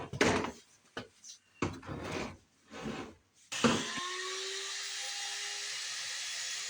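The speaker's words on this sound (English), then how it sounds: "Then, like Jack Black, I'm once again fighting with the dust collector." A woodshop dust collector switches on and settles into a steady, loud whooshing hum with a constant tone, following a few scraping and knocking handling sounds.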